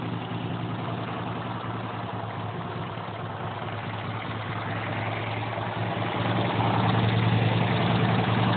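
A homemade off-road go-kart built from junk runs with a steady, rough engine drone, close and continuous, swelling slightly louder near the end.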